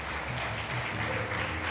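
A church congregation applauds together in steady, dense clapping that fills the space evenly and continuously, with no single voice standing out above the crowd noise.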